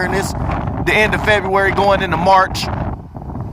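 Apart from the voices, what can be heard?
wind noise on microphone outdoors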